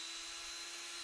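An electric drill bores through a Christmas tree ornament with a steady, high whine that holds a single pitch throughout and dips slightly at the very end. It is heard alone and fairly quietly.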